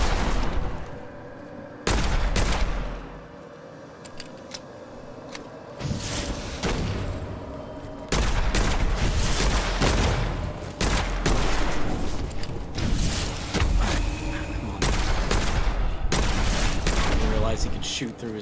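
Gunfire in the first-person shooter Witchfire, with bursts of sharp shots and heavy blasts coming in clusters amid mechanical clanks and game ambience, fairly loud and near.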